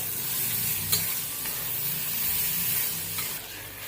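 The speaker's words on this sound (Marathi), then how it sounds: "त्यामध्ये ढोबी मिरची टाकूया आणि परतून घेऊया" A vegetable masala mixture with chopped capsicum sizzles in a pan while being stirred, as the base for street-style masala pav. A soft, steady frying hiss runs throughout, with a few scraping stir sounds.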